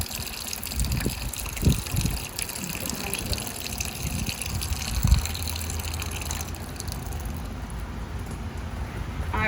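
A natural meandering stream of water flows steadily outdoors, giving a continuous broadband rush and gurgle at moderate level, with a few faint low thumps along the way and no voices.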